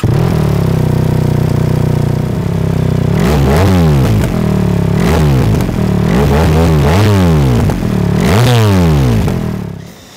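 A BMW R1300GS motorcycle fitted with an Akrapovic double exhaust idles close by and revs repeatedly in quick, rising bursts, four or five throttle blips in succession, loud and alone with no talking.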